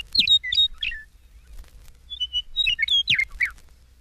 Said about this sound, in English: Page 210, Western Meadowlark.